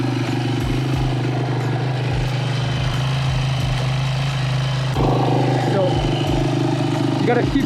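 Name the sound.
kick-started dirt bike engine idling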